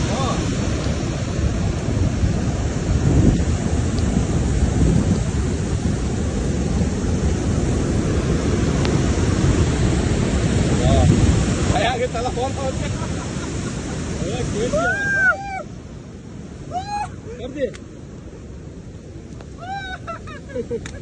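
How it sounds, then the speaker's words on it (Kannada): Water pouring over a full dam during the monsoon, a steady broad roar of falling water that fills most of the stretch, easing toward the end as faint birdsong comes through. "ಇಲ್ಲಿ ಬೀಳ್ತಿರೋ ನೀರು ನೋಡಿ ಇಷ್ಟು ಡ್ಯಾಮ್ ತುಂಬಿದೆ"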